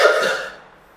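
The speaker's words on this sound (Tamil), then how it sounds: "ஏழை ஏழை பேஷண்ட் மாதிரி இருமினே இருக்க" A single short cough bursts out loudly at close range, then quickly fades into silence.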